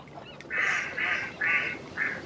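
A duck by a moored boat gives four loud, close quacks in a quick, evenly spaced run, with no voices.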